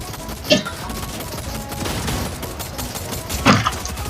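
Two sharp gunshots about three seconds apart cut through a dense, noisy Fortnite soundscape of rumbling and clatter.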